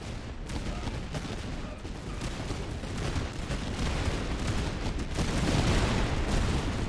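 Massed musket volleys from lines of soldiers in the strategy game Master of Command, a dense crackle of overlapping shots growing steadily louder, with no talking.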